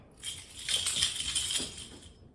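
A ring of keys jingles close by to scare off cats, a bright metallic rattling that rises and then fades over a couple of seconds with no speech.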